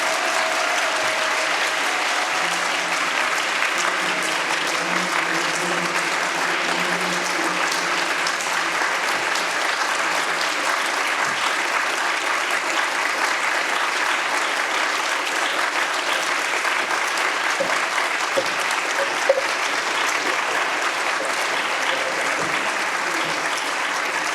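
Sustained audience applause at a lifetime achievement award presentation, a dense, even wash of clapping from a large crowd lasting over twenty seconds, with faint voices briefly underneath.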